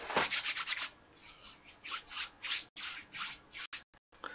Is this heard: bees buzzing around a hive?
no